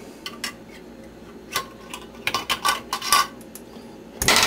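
A metal lid set onto a glass canning jar of homemade zucchini relish gives a series of light, close clinks and taps, ending in a louder metallic rattle, with no talking.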